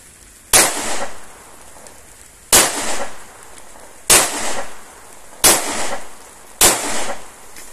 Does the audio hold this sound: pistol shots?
yes